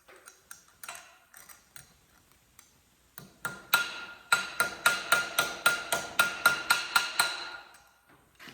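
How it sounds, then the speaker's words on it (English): A cut-down old ball peen hammer strikes metal while shaping a star napkin holder, scattered taps and then a fast, regular run of bright ringing blows, close and loud. "All it is an old ball peen hammer that I cut down."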